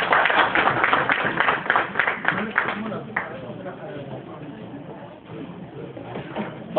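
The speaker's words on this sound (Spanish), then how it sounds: "Denle un aplauso, pero al Señor Jesucristo." Applause from an audience at a church Valentine's banquet, a dense patter of clapping that is strongest at first and then thins out beneath a speaker's ongoing talk.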